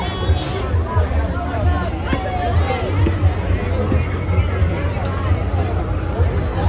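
Busy crowd hubbub at a packed Astoria Park carnival in New York, a continuous babble of many voices with occasional shouts, steady and close throughout.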